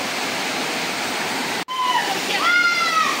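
Penchalakona waterfall, water falling from a height onto rocks, a steady broad rushing roar heard nearby, with a brief cut midway and a voice speaking over the water afterwards.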